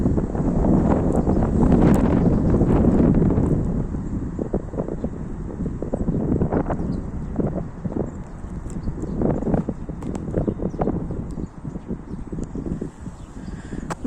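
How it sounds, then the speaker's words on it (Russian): Snowstorm winds roar through trees in a blizzard, a loud continuous rush with gusting swells and scattered creaks and knocks, strongest over the first few seconds and then easing slightly but staying steady. "Деревья прям буквально свистят."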